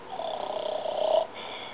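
A storyteller's voice imitates a wolf snoring during an Afrikaans fable about a jackal and a wolf catching fish: one steady, rumbling, purr-like snore of nearly two seconds, moderately loud and close, ending abruptly.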